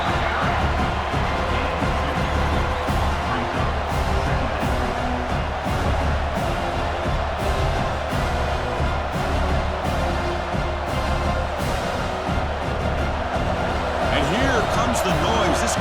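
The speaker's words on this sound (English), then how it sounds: "This crowd is trying to inspire this defense to make a big red zone stop." A stadium crowd in EA College Football 26 roars steadily through an Indiana at Penn State game, a thick continuous wall of crowd noise running under ongoing commentary.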